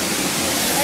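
Water rushing in a fountain in Tiraspol, a dense, continuous splashing wash heard up close and fairly loud, filling the whole brief moment without pause.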